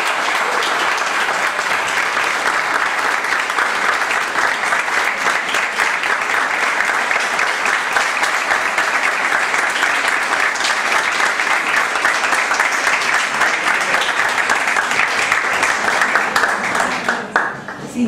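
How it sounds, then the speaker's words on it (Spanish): An audience applauds contest participants at an inter-American human rights competition, dense sustained clapping that fills the room evenly, loud and close, trailing off only at the very end. "Un aplauso para todos ustedes."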